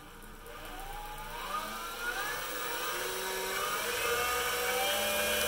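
A PM-728VT milling machine spindle runs at full speed, 4,300 RPM, giving a steady, fairly quiet whir with a faint rising whine that holds level throughout.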